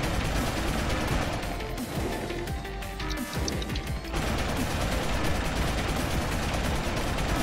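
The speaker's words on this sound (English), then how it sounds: "He started shooting all of a sudden again." Sustained gunfire in Deus Ex: Human Revolution, dense overlapping automatic shots with crashing impacts, loud and nearly continuous, briefly thinning midway before resuming.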